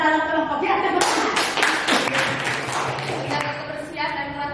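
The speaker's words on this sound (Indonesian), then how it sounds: "Oke, tepuk tangan." Classroom of students clapping hands together in a short burst of rhythmic claps, mixed with children's voices and a teacher talking over and around the clapping.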